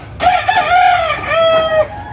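A rooster crows twice in a row in an open yard shaded by banana trees, where chickens (white kelso gamefowl) are kept; each call is loud, near and clear, alone with no talk over it.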